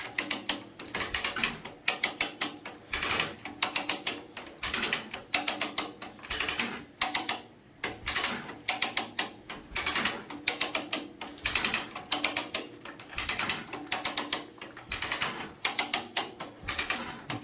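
A hydraulic cylinder being pulled out of a 1970 Case 580CK tractor: a rapid mechanical clatter, like a gear or ratchet spinning, comes in repeated bursts with short pauses, loud and close, with no voices.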